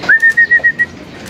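A racing pigeon in a loft lets out a short run of five or six close, rhythmic whistly call pulses that then fade, with no talk over them.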